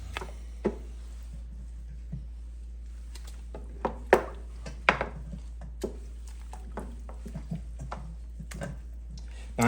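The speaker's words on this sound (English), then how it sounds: "Now, we'll go ahead and add our bones." Beef and veal bones dropped into a pot of water for pho broth, irregular close clunks and knocks of bone against metal with quiet splashes and pauses between.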